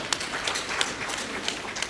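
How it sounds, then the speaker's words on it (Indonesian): An audience at a university rector inauguration ceremony in Berau gives faint, scattered applause, with a few sharper claps standing out from a soft, hall-filled wash. "Tepuk tangan untuk Berau semua"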